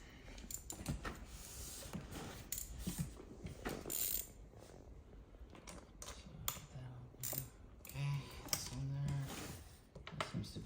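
A 10mm wrench works a handbrake adjustment, giving quiet, irregular ratcheting clicks and metallic fiddling with small clanks throughout, close but faint.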